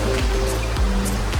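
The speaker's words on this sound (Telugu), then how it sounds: "సో రివర్ క్రాస్ కూడా చాలా ఫ్లో ఉన్నాయి. వాటర్ ఫ్లో అయితే చాలా హెవీ ఉంది." A river runs heavy and fast at a crossing point, its rushing water a dense, constant roar close by with no voices.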